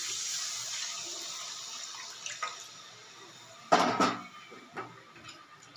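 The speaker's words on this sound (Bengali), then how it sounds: "জল দিয়ে দেবো।" Water is poured into a pot of braised potatoes and meat. A soft pour hisses at first, then a louder splash and sloshing burst comes midway, followed by a few quieter trickles and a light clink.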